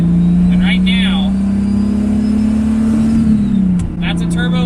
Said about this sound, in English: Today we are driving my 1988 Pontiac Fiero.